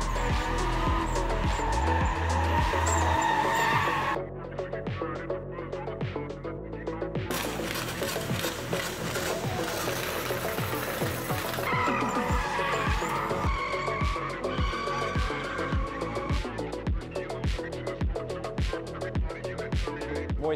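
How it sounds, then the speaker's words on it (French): Nissan Silvia S14 and 350Z drifting at a Japanese car festival, tires squealing and screeching in long, loud bursts over revving engines, continuous for the whole stretch with shifting intensity and no talk. "Le but, c'est juste de faire fumer les pneus et de faire kiffer le public."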